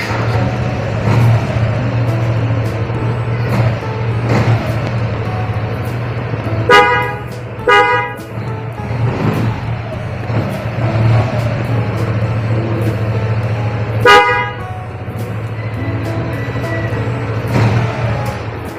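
Snail-type horn newly fitted to a Yamaha Nmax scooter sounds in several short honks, two quick blasts then a single later one, loud and close over a steady idling engine hum.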